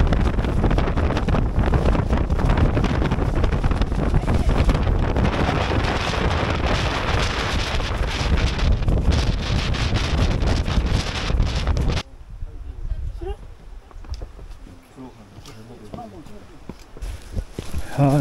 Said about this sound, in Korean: 장터목 이후부터는 바람이 너무 많이 불어가지고 카메라를 들고 있기도 힘들었습니다.